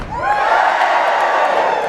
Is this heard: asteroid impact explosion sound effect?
no